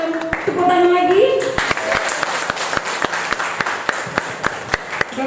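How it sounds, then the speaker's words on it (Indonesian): A small group of people at a gathering in Medan Johor claps again after being urged on, with a voice speaking at the start and sharp, uneven hand claps ringing out nearby throughout. "kurang meriah, tepuk tangan lagi"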